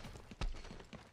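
Horse mount in the video game Paladins clip-clopping: a brief run of soft, uneven hoofbeats with one stronger thud in the middle, fairly quiet and close.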